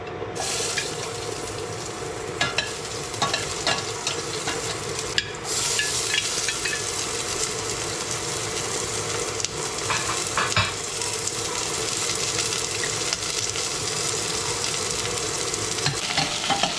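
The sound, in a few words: sautéing food in a pan, stirring and sizzling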